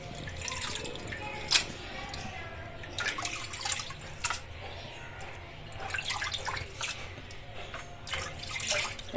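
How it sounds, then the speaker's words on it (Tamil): Hot water poured and sloshed while goat intestines are rinsed in a vessel, soft splashing and dripping with occasional louder splashes, moderately close. "இப்போ 2வது டைம் சுடுதண்ணி ஊற்றி அலசிக்கலாம்."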